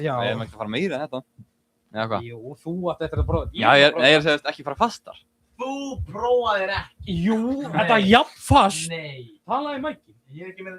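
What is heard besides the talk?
None of the usual background noises is heard.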